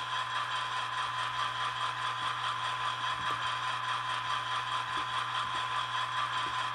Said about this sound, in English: Four should be the dynamic brake.